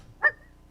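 A single short bark or yip from a dog, brief and moderately loud against a quiet room.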